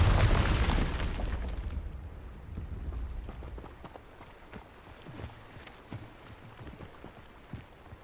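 A Confringo fire spell explodes in Hogwarts Legacy, a loud close blast at the start that decays into a rumbling tail, followed by scattered smaller impacts and clatter fading over several seconds.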